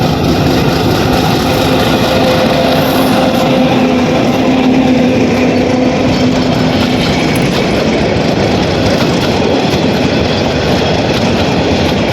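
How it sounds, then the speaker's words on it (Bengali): A train rolls past very close, a loud continuous rumble and rattle of wagons with a steady tonal hum from the engine, filling the whole stretch without any voices. "ট্রেন গেল গা আজকে খুব কাছ থেকে দেখাইতে আসছি ট্রেনটা"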